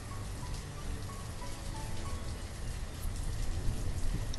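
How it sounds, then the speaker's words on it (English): Steady rain in the town-building video game Banished, a dense, continuous wash of falling drops that swells slightly toward the end, with no voices. "It's raining again, and it's warmer."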